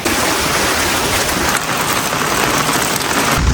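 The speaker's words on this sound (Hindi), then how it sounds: "मौसम बहुत ही डेंजर हो रहा है, लगातार बारिश हो रही है।" Heavy rain pours down steadily outdoors at a camping trip, a dense, loud, unbroken hiss filling the whole stretch with no voices.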